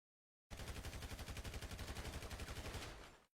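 Automatic gunfire in the video game GTA V, a long rapid burst of evenly spaced loud shots that starts abruptly after a short silence and runs for nearly three seconds.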